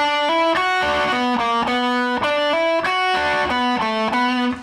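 A distorted electric guitar plays a repeating riff of sustained bent notes, loud and close, cycling through the same short phrase twice.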